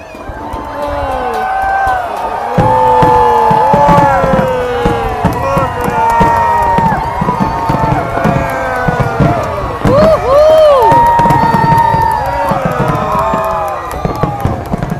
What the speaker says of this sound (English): Crowd's going wild here